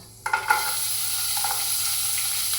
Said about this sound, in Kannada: ಇದನ್ನಂತೂ ಪಟ ಪಟ ಪಟ ಫ್ರೈ ಮಾಡೋದಾ?